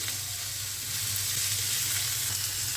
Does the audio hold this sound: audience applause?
no